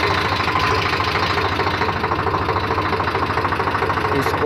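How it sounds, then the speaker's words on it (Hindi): A motorbike engine runs steadily at idle with a throbbing, knocking pulse, close and loud, continuing unbroken throughout. "ये बाइक को चला रहे हैं"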